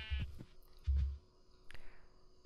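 Sheep bleating in the video game The Colonist, two short low bleats close by followed by fainter clicks and a soft cry, with quiet gaps between.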